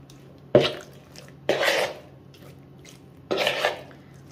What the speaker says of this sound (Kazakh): Енді қазір осыны қызып тұрған майға салып қуырып алатын боламын.